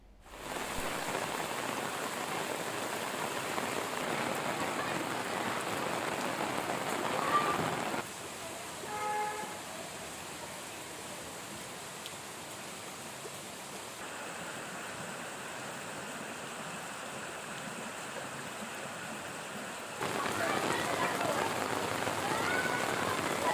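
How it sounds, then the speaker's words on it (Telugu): Heavy monsoon rain pours down on flooded Hyderabad roads in a dense, steady hiss, loud and continuous, briefly softening midway before returning at full strength. "రాష్ట్ర వ్యాప్తంగా భారీ వర్షాలు కురుస్తుండటంతో"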